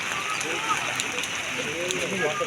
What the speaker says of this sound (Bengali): অনেক জোরে বৃষ্টি আইছে।